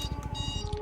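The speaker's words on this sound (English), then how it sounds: "Oh, there's my alarm." Electronic ship alarm in Elite: Dangerous, a repeating pulsed beep with steady tonal lines holding through the short span at moderate level, mixed with low rhythmic game hum and no talking.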